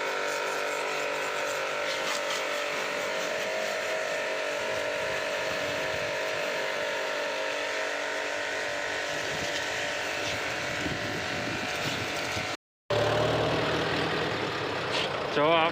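Tractor engine droning steadily while driving on a road out of a village toward a market yard, a continuous close rumble with wind noise and no clear talk.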